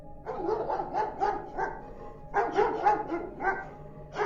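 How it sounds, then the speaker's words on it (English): Dogs bark and growl close by in rapid, overlapping bursts, with a short pause before another flurry of barking. "my dog started barking and growling"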